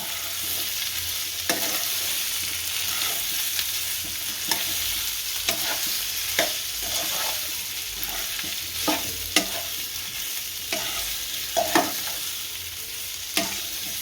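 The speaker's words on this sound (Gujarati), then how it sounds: "હવે મીઠું નાખશું, હવે ભેળવી નાખશું આને" Dry potato bhaji being stirred and mixed in a pan with salt, a steady low sizzle running throughout under repeated close spoon scrapes and taps at uneven intervals, no voices.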